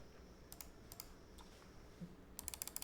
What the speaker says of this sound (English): This is the typing test of the same board, same switches, but now we have a polycarb plate and we've installed both the dampeners.